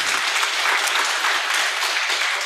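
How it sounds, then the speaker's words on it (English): Listeners at the close of a lecture on democratic governance clap together in a bright, even burst of applause that stays steady and fairly loud for a few seconds, with no voices over it. "give her another applause to her"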